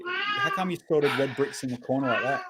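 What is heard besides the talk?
pet cat meowing in the background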